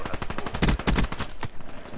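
Rapid sniper rifle fire in Black Ops 3, a quick run of sharp, punchy shots in close succession with heavy low thumps, loud and close, tapering off toward the end.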